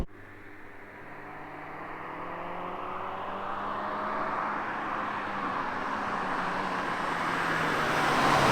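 A Suzuki Swift Sport 136 hatchback accelerating on the road, its engine note rising steadily in pitch under a broad wash of tyre and wind roar that grows louder throughout.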